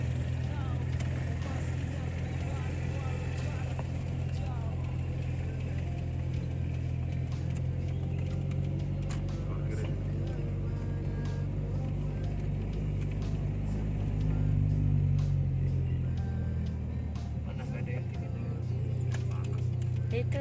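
Car driving slowly and parking at Blimbingsari airport in Banyuwangi, a steady low engine rumble inside the cabin that swells briefly then settles, with people talking over it.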